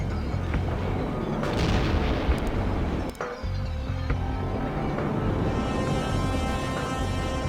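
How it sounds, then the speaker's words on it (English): Airstrike in the strategy war game World in Conflict: a dense, continuous rumble of heavy explosions and booms, loud and close, with one brief dip in the middle before the roaring blasts resume. "Airstrike accomplished."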